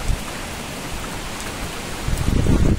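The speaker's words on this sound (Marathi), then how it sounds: "थोडासा पाऊस कमी होणं अतिशय गरजेचं आहे" Heavy rain at Kukdeshwar temple, a loud steady wash of downpour that swells stronger toward the end, close and continuous with no voices.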